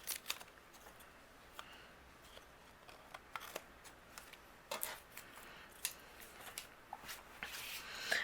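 Cardstock overhang being trimmed while making a handmade card: faint, irregular snipping clicks over a quiet background, with no talking.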